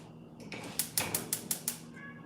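A house cat meows several times in a quick series of short calls, close by and fairly loud, wanting to be let outside.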